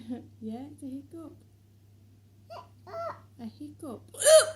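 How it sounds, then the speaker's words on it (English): Small child hiccuping repeatedly, several short sharp vocal hiccups spaced through the clip, with a whimpering, babbling voice between them over a low steady hum. "Yeah, it's a hiccup."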